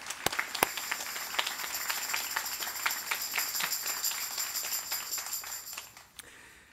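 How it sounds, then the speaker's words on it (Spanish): A church congregation claps together at a Sagrada Familia service, the applause dense and steady with a few sharp early claps, then fading out toward the end. "Un aplauso a nosotros."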